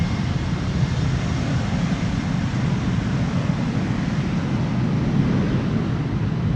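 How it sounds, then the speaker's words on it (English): Boeing 747-400 freighter departing Amsterdam Schiphol Airport, a broad continuous engine roar held steady and loud throughout, with some wind noise and no talking. "Last airplane of the day."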